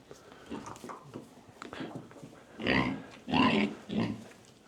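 Pigs on a farm grunting and snuffling close by, a series of short uneven snorts that grow louder toward the end, with a dog whimpering faintly and no talk.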